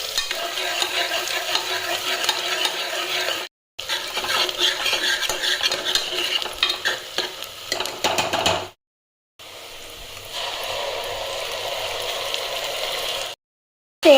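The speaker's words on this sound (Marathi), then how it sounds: "तेलामध्ये ना अद्रक लसूणची पेस्ट व्यवस्थित परतवून घेते" Ginger garlic paste fries in hot oil while being stirred briskly with a spoon, producing a loud continuous sizzle and scraping, broken by brief silent cuts, with no talk.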